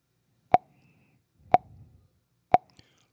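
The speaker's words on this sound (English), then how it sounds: "we should barely hear the click, only feel it." Three crisp, evenly spaced metronome clicks about one second apart, close and isolated against near silence, with a faint soft thump after the second.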